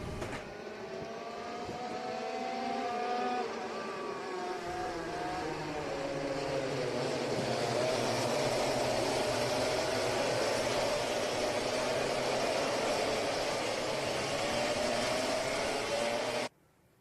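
A pack of racing karts howls past on the Fulbeck circuit, a dense buzzing wall of many small engines that swells as the field arrives and holds loud and steady before cutting off at the end.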